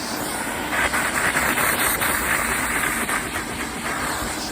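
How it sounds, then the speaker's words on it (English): A steam cleaner hisses continuously while a vacuum draws air over car carpet, a loud, steady roaring wash of noise with faint rhythmic scrubbing pulses, close by and without talking. "So I'm steaming and I'm vacuuming at the same time."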